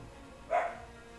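A single short bark from a dog named Waffles, a little muffled and off at a distance over a quiet background.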